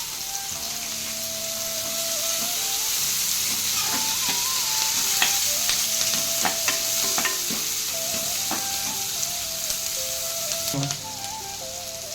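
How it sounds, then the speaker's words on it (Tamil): Curry leaves crackle in hot oil with onions in a pan for a chicken kulambu, a steady loud sizzle broken by clinks and scrapes of stirring throughout, no voices. "கருவேப்பிலை போட்டுருவோம்."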